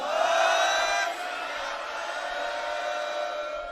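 A large crowd answers a Sikh jaikara slogan at a rally with Punjab's chief minister, a loud collective shout that swells at once and then tapers into a sustained roar of distant voices.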